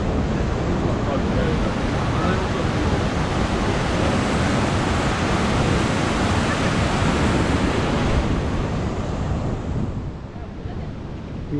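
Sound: Huka Falls waterfall in New Zealand

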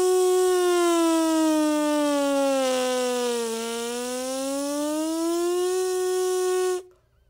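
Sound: horn mouthpiece buzzing a siren glissando

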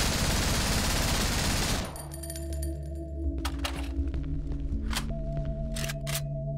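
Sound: FAMAS G2 and MP5 gunfire in video game Cry of Fear

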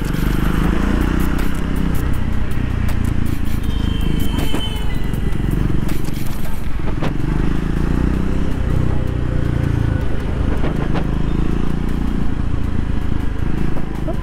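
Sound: Triumph 400X motorcycle engine cruising in third gear

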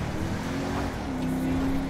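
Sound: car engine driving in GTA 5 video game

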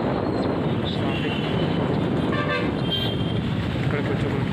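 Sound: city road traffic with car horns honking

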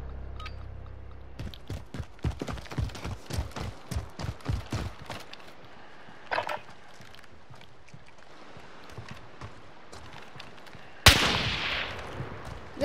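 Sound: gunshots in a video game gunfight

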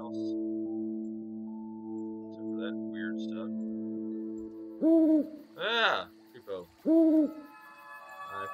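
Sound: owl hooting in video game Rusty Lake Paradise

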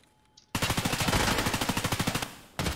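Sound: gunfire from a video game (scav shooting)

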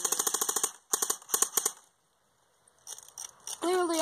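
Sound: airsoft gun shots from Lancer Tactical LT12T or AK47

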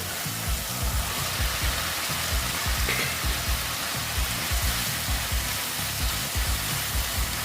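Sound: pabda fish frying in oil with spices

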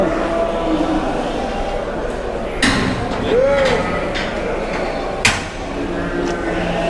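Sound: door being closed at livestock market scale

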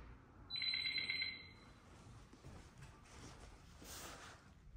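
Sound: alarm system chirping

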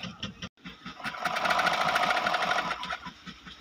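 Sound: flatlock sewing machine stitching

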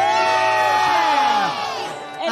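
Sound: audience applause for contestant Elisa

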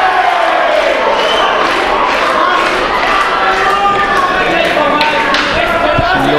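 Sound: audience cheering on a fighter at a fight event

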